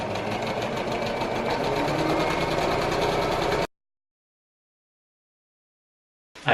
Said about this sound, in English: Now that one's ready to sew.